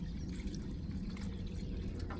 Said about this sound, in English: I'm going to pour it into my stainless steel pan.